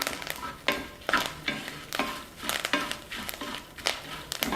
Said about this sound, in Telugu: స్టవ్ ఆఫ్ చేసేసుకుని ఒకసారి మొత్తాన్ని బాగా కలుపుకుందాం